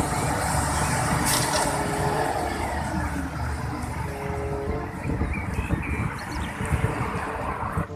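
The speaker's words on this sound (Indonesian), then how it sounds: "Wow, ada mobil truk molen." A large cement mixer truck rumbles steadily nearby, its low engine drone continuous and fairly loud, with a faint hiss and slight swell near the end.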